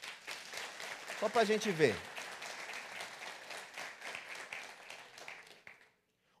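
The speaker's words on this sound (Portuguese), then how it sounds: "Bate palmas se você já ouviu isso" An audience claps steadily at a church talk, broad applause filling the room at moderate loudness while a voice speaks over it and a brief vocal swell rises midway before the clapping fades out.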